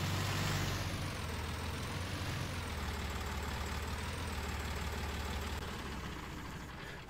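A tractor engine in Farming Simulator 19 idles in a steady, low, droning rumble close by, holding an even level throughout before easing slightly at the end, with no voices.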